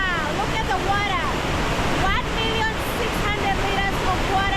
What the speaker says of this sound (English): Iguazú Falls, Argentina. Wow, look at the water.